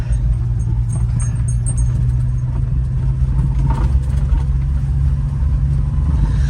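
A Honda mini truck driving across a farm, its small engine giving a steady, loud, low drone from inside the cab with faint rattles and jangles.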